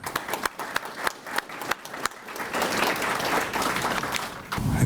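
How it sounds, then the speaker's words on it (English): Scattered individual claps swell into full audience applause at a Hobart Chamber of Commerce awards presentation, continuing steadily and fairly close until the end. "So I'd like a round of applause for them."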